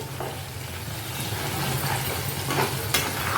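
A cooled mustard tempering is stirred into homemade tomato pickle, making a soft continuous wet mixing hiss with faint scraping strokes near the end.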